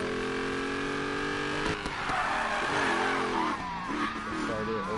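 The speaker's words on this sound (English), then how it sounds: "I can hear the turbo. It's whining, like making an air sound." A Dodge Demon driving near top speed, its engine roaring loud and steady with a turbo whine riding on top, pitch shifting as it accelerates, with tire noise underneath.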